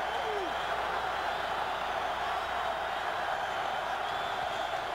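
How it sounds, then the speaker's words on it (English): Football stadium crowd roaring on a 3rd down, a dense continuous wall of cheering that holds steady throughout, with no quiet spots. "Crowd climbs into it"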